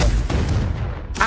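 A Confringo explosive spell blasting in Hogwarts Legacy, a heavy booming impact at the start followed by a second thud and a rumbling tail, ending with a sharp crack, loud and close.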